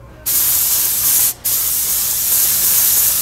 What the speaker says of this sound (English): So I've got it set as a very, very kind of a dot spray, so it's more pinpoint for getting in these small areas.